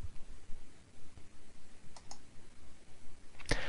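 Mouse clicks on a computer in MATLAB software, two quick faint clicks near the middle and a sharper louder click near the end over a quiet background.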